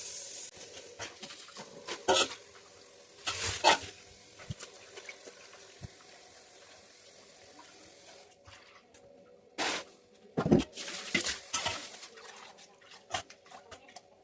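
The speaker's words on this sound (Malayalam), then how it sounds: "മീൻ മുറിച്ച് കഴിഞ്ഞ് നമുക്കിതൊന്ന് കഴുകിയെടുക്കാം കേട്ടോ" Water splashes and runs as freshly cut mackerel is rinsed in a kitchen, in uneven bursts of pouring and sloshing with quieter dripping pauses between, close and moderately loud, without speech.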